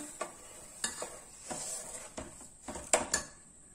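Sugar being stirred into raw mango pulp for sweet-sour mango papad, a spoon scraping a bowl in several separate strokes, close and fairly quiet with no talking.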